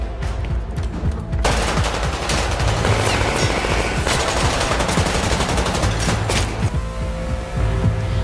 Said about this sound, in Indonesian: Terjadilah baku tembak antara anak buah Chris dengan tim Mehdi